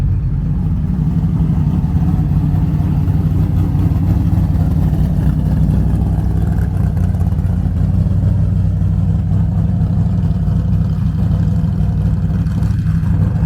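A classic Chevrolet Nova with wood-rimmed steering wheel rolls past at an Arizona car show, its engine giving a steady, beefy low rumble that holds loud and close throughout.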